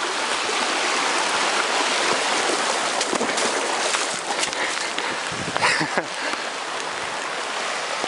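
A river is crossed on foot while fast-flowing water rushes steadily and loudly close by, a dense continuous wash with a few brighter splashes partway through.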